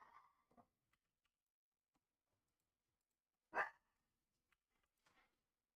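An indoor dog barking in a few isolated, sharp bursts, one louder bark standing out amid near silence with faint clicks between.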